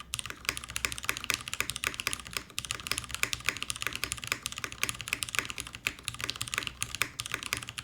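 Fast, steady clacking of a Milan TKL mechanical keyboard as someone types continuously, crisp and close, with no talking.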